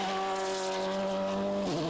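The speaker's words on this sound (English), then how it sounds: "Into Verschuren, losing some power in the engine of his VW." Volkswagen rally car engine in a Belgian rally race, loud and steady with a sustained high whine and strong harmonics, dropping in pitch near the end as the car loses some power.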